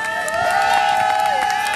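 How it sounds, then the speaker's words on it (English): Applause and cheering from a crowd welcoming Detroit Police Chief Craig to the podium at a Friends of Parkside community event near Chandler Park, a steady dense wash with a sustained shout or whistle over it. "Round of applause, please, for Police Chief Craig."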